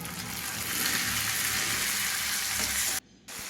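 Onions sautéing in a pan until brown, a steady loud sizzle and crackle with faint stirring, cutting out briefly near the end before resuming.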